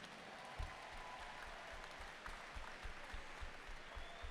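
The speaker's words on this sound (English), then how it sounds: "let's have a big round of applause for both of the fighters in this cage" Crowd applause for two fighters in the cage after a third-round TKO stoppage at a PFC mixed martial arts event, fairly distant clapping with occasional thumps, heard alone without speech.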